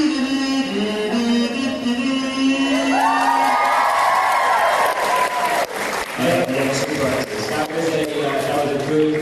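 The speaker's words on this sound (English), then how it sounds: "That was a good reaction from the crowd" A convention crowd at KupoCon cheers, whoops and applauds in a loud, sustained burst, with high shouts and yells rising over continuous clapping.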